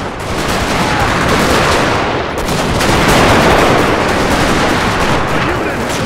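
Musket volleys crackle in a dense, continuous roar of massed gunfire during a Total War recreation of the 1864 Battle of Franklin in the American Civil War, loud and sustained with overlapping shots.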